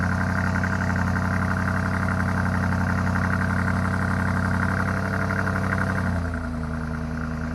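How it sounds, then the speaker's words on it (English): A 2021 BMW X5 M50i engine idles in a steady, close, even hum at a raised speed, then steps down to a lower, calmer idle near the end. "We'll let it slow down to a normal idle."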